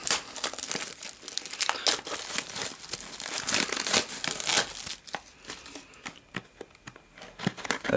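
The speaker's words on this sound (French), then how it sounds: "Je vais rapidement vous ouvrir le deck." Plastic and cardboard packaging of a Pokémon card deck crinkles and tears close up, in busy bursts of rustling that quiet down toward the end.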